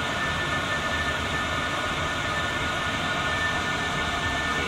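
A cheap 12V Chinese diesel heater runs at full power aboard a boat, giving a constant, even roar of fan and combustion noise with a faint high whine, steady and close throughout, no talking.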